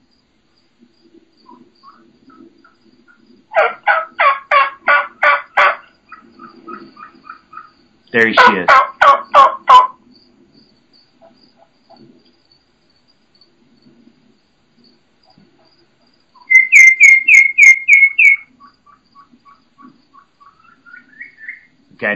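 A wild turkey hen calls from out in the field in several bursts of rapid, high-pitched notes separated by long quiet gaps, with a shorter steady run near the end and someone speaking a few words.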